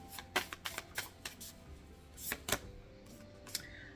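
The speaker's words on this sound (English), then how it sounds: "Shuffle." Tarot cards being shuffled in quick bursts of riffling and flicking, close and crisp, with short pauses between.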